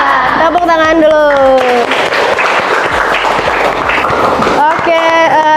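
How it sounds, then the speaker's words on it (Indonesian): Classroom students applauding after their teacher's cue at the end of a school lesson, a dense burst of clapping in the middle with the teacher's voice talking before and after it. "Tepuk tangan dulu."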